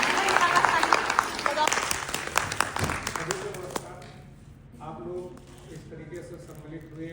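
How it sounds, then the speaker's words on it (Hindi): Audience applause at a Poshan Maah nutrition month closing event held by ICDS in Munsiyari, Uttarakhand, a dense burst of clapping for several seconds that fades out and gives way to a speaking voice. "एक स्पेशल तालीम मेरी तरफ से और आप लोगों की।"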